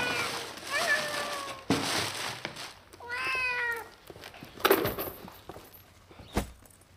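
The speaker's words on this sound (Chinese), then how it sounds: "咱们到家啦，从此以后你就是一个有家的小喵喵啦。" A kitten meows several times, including a clear rising meow partway through, close by and moderately loud, amid indoor rustling and knocks in a drama scene.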